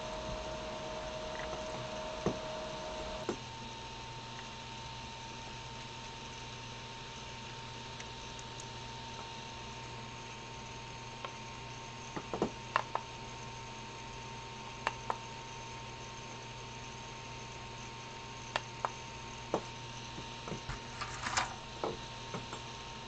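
An Ender 3 V2 3D printer, set up to print ABS after a hot end fix and Capricorn tube upgrade, runs with a faint steady mechanical hum, broken by scattered soft clicks and light taps from the moving parts.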